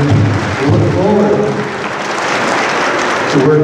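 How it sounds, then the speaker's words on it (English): An audience applauds the governor of New Mexico at a state legislature event: a dense, fairly loud wash of clapping runs through the whole few seconds, mixed with voices. "let's give her a big round of applause once again"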